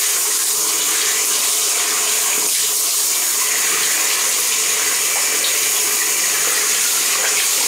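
Tap water pours steadily and loudly while a dog is bathed, a continuous close hiss of running water from a faucet with no break.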